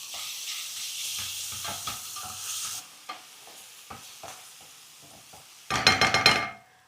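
Ginger, garlic and coriander paste sautéing with onion in a pan gives a steady frying sizzle with stirring scrapes, building to a louder burst of sizzle and clinks near the end; no talking.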